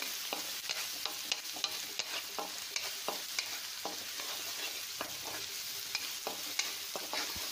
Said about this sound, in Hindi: तेज़ गैस पे हम भून रहे हैं इसको तो प्याज जल्दी भून जाएगी